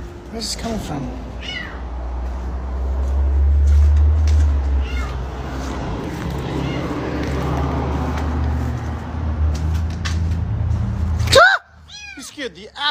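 A tiny cat meows against a steady low rumble of road traffic and car noise, with high, short cries scattered through the clip and a sharper burst near the end as the background drops away.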